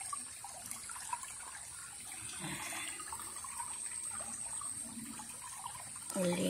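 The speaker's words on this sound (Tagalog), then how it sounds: "Ang daloy ng tubig dito sa aming sapa." Water flows steadily over rocks in a clean mountain stream, a continuous rushing wash heard close by with no one speaking.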